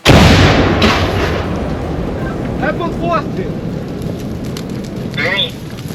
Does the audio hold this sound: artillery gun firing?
yes